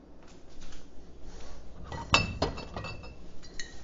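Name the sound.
wine glass clinking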